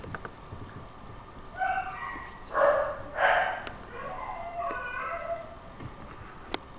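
A Minecraft dog barks a few times in short, tonal bursts, fairly faint and thin, with quiet pauses between the barks.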